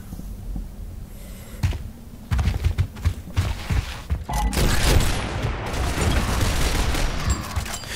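A Boomshot weapon firing in Gears of War esports play, heavy booming blasts and explosions building into dense continuous gunfire and rumble, loud and close.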